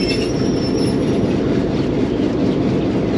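A PHA-20 locomotive pulls away from Phularwan railway station in Punjab, heard from the cab as a loud, steady rumble of engine and rolling wheels that holds throughout with no talk.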